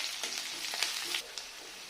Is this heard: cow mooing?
no